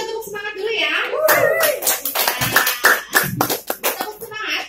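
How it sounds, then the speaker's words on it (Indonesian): A group of participants in a Microsoft Word class for blind learners claps together in a spirited cheer, a steady run of sharp hand claps layered with voices talking and calling out throughout. "Ya, kita tepuk semangat dulu ya."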